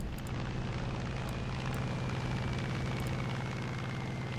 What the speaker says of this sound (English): Bombs release.